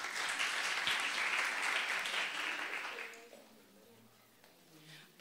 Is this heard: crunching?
no